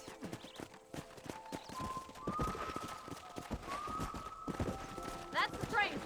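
Horse hooves clip-clop at a quick, steady pace in Red Dead Redemption, close and clear, while someone talks over the hoofbeats.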